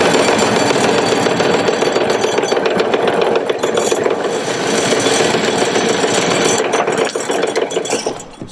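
Power tool cutting a kayak foot peg about five inches shorter during a Torqeedo motor install on a Jackson Kayak Coosa HD, a steady loud grinding, rattling whir running continuously close by with no talk.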